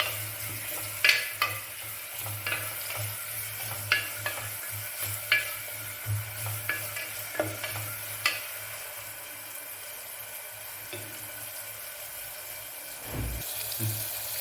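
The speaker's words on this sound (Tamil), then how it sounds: "வெங்காயம் நல்லா வதங்கி வரட்டும்." Chopped onions sauté in a pan with curry leaves for a tomato kurma, a soft steady sizzle broken by repeated scraping stirs, quiet and close with no voices.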